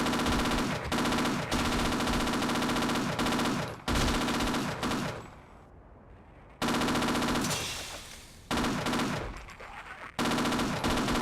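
Sustained automatic gunfire from Half-Life, loud and continuous in long bursts with a couple of brief lulls, no talking over it.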